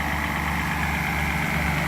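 A Mercedes 600SL engine idling on a cold start runs with a steady, even rumble and a faint rhythmic pulse, close up and alone.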